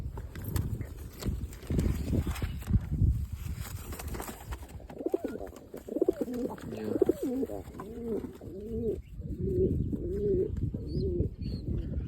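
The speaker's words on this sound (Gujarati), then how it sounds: "કબૂતર અંદર છે" Pigeons coo in a series of soft, throaty calls, close by, after a stretch of rustling and fluttering, with some voices and shuffling in the background.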